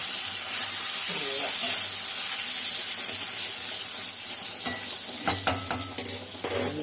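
A spoon stirs chili powder, turmeric and salt into food frying in a pan, with steady sizzling and hiss and a few sharp scrapes and clinks of utensil on metal toward the end.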